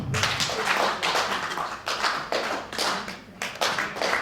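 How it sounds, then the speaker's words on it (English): Audience members at an early childhood development stakeholders' conference clap for a panel, a fairly sparse, uneven patter of individual hand claps with distinct bursts, fairly close, with no talk. "Can we give them a hearty clap?"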